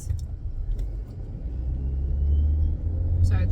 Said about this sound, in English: this car didn't look like it was slowing down behind me